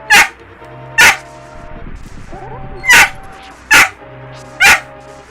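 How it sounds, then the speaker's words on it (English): A pet dog barks in loud, sharp bursts: five separate barks spaced irregularly across the stretch, close by, with a quieter gap in the middle. "My dog is in here. If you hear someone screaming, it's him."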